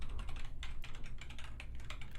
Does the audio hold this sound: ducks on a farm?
no